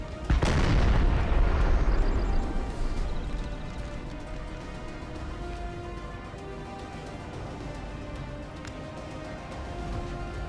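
A heavy artillery boom opens a Napoleon: Total War battle, followed by a long rolling rumble and scattered distant musket shots fading into a steady battlefield din.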